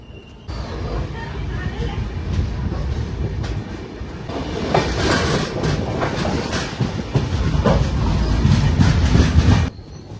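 Madurai Kacheguda superfast express running on rails, a steady clickety-clack of wheels that swells louder toward the end, heard from inside the train with voices in the background.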